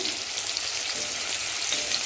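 Pointed gourd (potol) frying in oil makes a close, steady crackling sizzle that stays constant from start to finish, with no speech.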